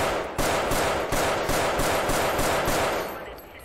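Rapid automatic gunfire from a police body-cam scenario in Garry's Mod, a dense unbroken stream of close, loud shots lasting several seconds before trailing off, with no talk over it.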